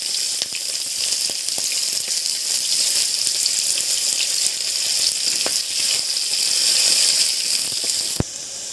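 Chopped onion sizzles steadily in hot mustard oil with bay leaf and a dried red chilli, a loud continuous close frying hiss with occasional pops, no voices.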